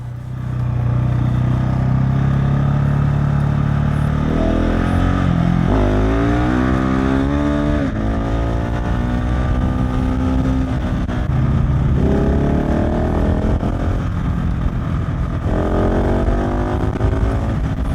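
A 2021 KTM 690 SMC R motorcycle rides along a road, its loud single-cylinder engine revving up through repeated gear changes and rising pitches, close to the microphone with no speech.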